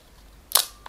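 A Pentina camera's shutter fires once with a sharp, crisp mechanical click, followed a moment later by a fainter second snap as the mechanism resets, in an otherwise quiet room.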